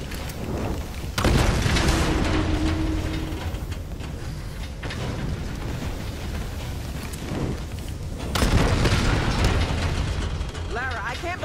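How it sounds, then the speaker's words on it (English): Two heavy, rumbling explosions in the video game Tomb Raider burst out, one early and one later, over continuous grinding mechanical clatter. "we need a bigger explosion"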